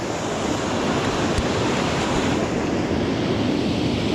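Water from Hareshaw Linn waterfall pours over rocks in a continuous, even rushing roar, close and loud, steady throughout with no voices.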